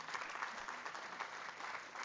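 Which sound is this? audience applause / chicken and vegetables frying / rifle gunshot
audience applause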